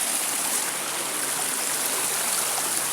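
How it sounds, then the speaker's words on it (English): A small waterfall in a stream at Santa Fe pours steadily over rocks, a dense, constant rushing splash heard up close and on its own, with no talking. "It's like a little waterfall here."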